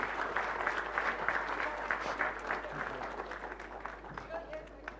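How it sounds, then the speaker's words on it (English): A crowd at the opening ceremony of a young chefs' competition applauds steadily with dense clapping that gradually thins out toward the end. "please put on your hands together and a big round of applause"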